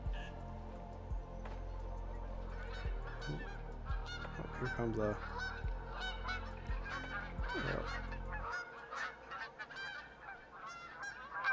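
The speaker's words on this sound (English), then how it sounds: "this is a really good goose spot" Geese honk repeatedly in the Revontuli map of a hunting video game, a loud, busy chorus of calls over a low rumble that drops away near the end, with a brief spoken word.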